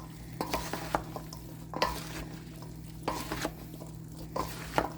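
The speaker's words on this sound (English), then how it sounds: "So just mix it really, really, really well." Pasta salad is tossed in a bowl, with repeated wet, squelching stirs and light clinks of utensils coming in uneven bursts, close and fairly quiet, with no talk.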